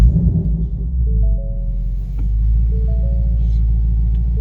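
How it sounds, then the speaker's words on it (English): A 2019 Ford Mustang Bullitt V8 cold start, a loud close deep exhaust rumble that settles into a steady throbbing idle, with a faint tone and small clicks above it. "we're going to do a cold start in my 2019 Bullitt."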